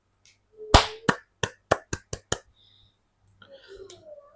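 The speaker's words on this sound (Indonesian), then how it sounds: "Para pendukung yang hadir memberikan tepuk tangan" Supporters gathered on a field clap for Tri Adhianto, about seven crisp, separate hand claps in a quickening run, followed by quieter scattered noises.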